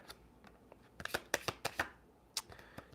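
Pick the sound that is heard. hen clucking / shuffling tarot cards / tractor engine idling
shuffling tarot cards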